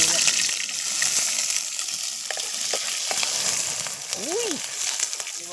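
Sliced onion sizzles steadily in a frying pan with a close, even crackle that carries on throughout, broken by a faint stirring clink and a brief squeak near the end.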